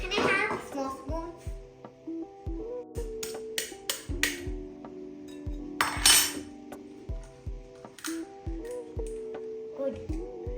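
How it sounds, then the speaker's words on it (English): A spoon mixes sugar in a bowl for a homemade milk cake, making repeated sharp clinks and scrapes at an uneven rhythm, close by, while someone talks over much of it. "Now let's mix it."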